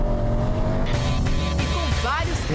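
Car engine revving and accelerating with four-wheel traction while the tyres slide and squeal on loose terrain, a continuous close motor drone with a voice talking over it.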